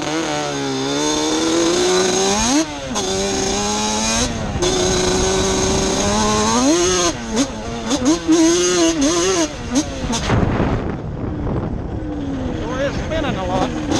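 A Yamaha Banshee quad with a two-stroke engine tuned to about 100 hp revs up close in sharp, climbing bursts that buzz like a chainsaw, between raspy idling. Voices are heard now and then under the engine.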